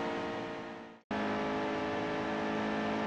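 Race car engine from the NASCAR Heat 2 video game, running loud and steady, then abruptly cutting out for a brief moment of near silence before roaring straight back at full power.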